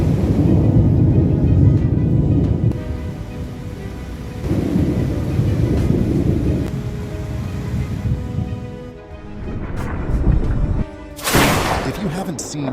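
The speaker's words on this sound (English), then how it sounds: "The stunning storm in Moscow created a magical scene with brilliant pink lightning, making the sky look mysterious and powerful." A thunderstorm over Moscow rumbles with deep, heavy thunder rolling under steady rain, swelling and fading across the span, with a sharp loud crack near the end.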